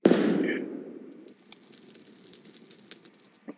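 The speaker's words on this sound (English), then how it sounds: "Shoot it! Fireball." A fireball shot explodes in Minecraft Hypixel Skywars: one loud burst up front, fading into a crackling rumble, followed by small scattered pops and clicks.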